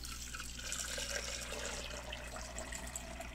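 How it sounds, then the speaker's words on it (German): Steaming hot water is poured into a plastic cup, a steady splashing, trickling pour heard close up, alone without any talk. "Rein mit dem heißen Wasser, es dampft schön."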